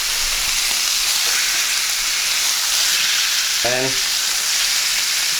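A lamb rack sears in a pan with a loud, dense, continuous sizzle close by, and a voice speaks briefly over it.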